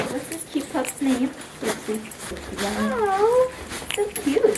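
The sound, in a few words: dog whimpering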